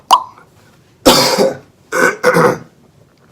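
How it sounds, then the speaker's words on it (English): A short throat clear followed by two harsh coughs close to the microphone, separated by brief silences. "Give him a cough drop because he can't stop coughing"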